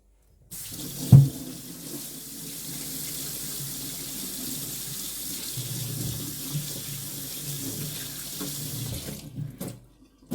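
Running kitchen tap with hands being washed under it, a steady close splashing stream with a brief louder splash near the start, stopping at the end.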